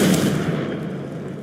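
A Confringo spell explosion in the Hogwarts Legacy video game, heard as a single loud, broad blast that starts at full strength and slowly decays, with no talk over it.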